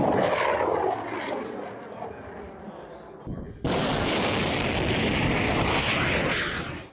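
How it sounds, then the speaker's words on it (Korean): A Patriot missile hot launch during a live-fire exercise sets off a loud, sustained roaring blast. The rumble fills the first few seconds, dips briefly, then surges back into a steady, powerful roar that fades at the end. "이 미사일이 발사되는 모습을 보면 웅장하죠"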